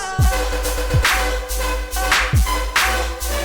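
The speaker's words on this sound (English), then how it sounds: "Today I'm going to show you how to make melodic / future rhythm that sounds like this." A melodic future riddim track with a heavy sustained sub-bass, shimmering synth chords and punchy kicks that drop in pitch, playing loud and dense throughout.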